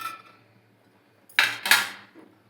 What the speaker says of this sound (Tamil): நம்ம மூடி வச்சிடலாம்.